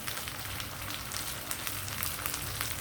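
Hot tempering hits a pot of goat trotter soup (mutton paya) with a steady, dense sizzling crackle that holds evenly throughout, fairly close and with no talking.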